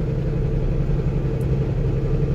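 A truck engine drones with a steady low rumble while cruising on Interstate 80 eastbound near Laramie, Wyoming, continuous and close from inside the cab, with no talking.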